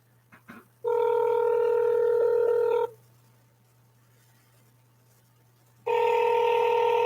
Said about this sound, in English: Okay, dialing.